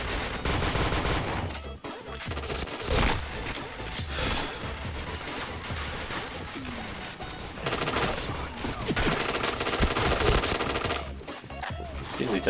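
Dense automatic gunfire and bursts from a shooting video game during a casual multiplayer session, loud and nearly continuous with rapid fusillades and brief gaps.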